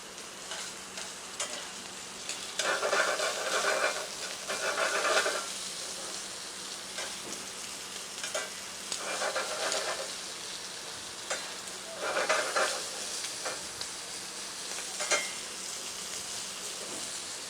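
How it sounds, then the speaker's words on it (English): Steamed lobster sautés in olive oil in a pan, a soft steady sizzle broken by repeated bursts of stirring and scraping, moderately close with no talking. "The lobster is cooking in olive oil."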